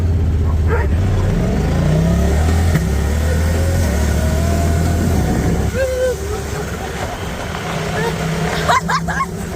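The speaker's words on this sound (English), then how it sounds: "Wow, we're drifting!" A Honda car slides sideways with its engine revving loudly, a steady droning engine note with shifting pitch, close by, later dropping off.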